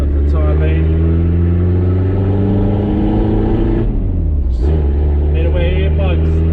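A farm machine's engine revs through a straight pipe exhaust, a loud, close, continuous roar with rising and falling pitch. Engine tone dips briefly partway through, and the noise continues throughout.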